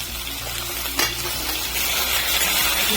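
Spiced chickpeas with potato and carrot sizzle in a pan with chili, turmeric and cumin powders while a spoon stirs steadily, with one sharp scrape near the start and a constant frying hiss throughout.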